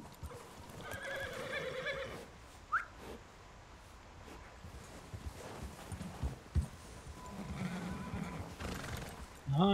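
Horse neighing and whinnying in Red Dead Redemption 2, with a couple of distinct calls near the start and end, clip-clopping hooves in between, and some faint background chatter.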